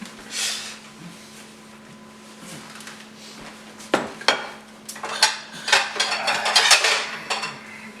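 Plates and dishes clatter in a home kitchen while a zucchini lasagna is being served, with a few sharp ceramic knocks early on and a busier run of clinks and scrapes toward the end, close by with no talking.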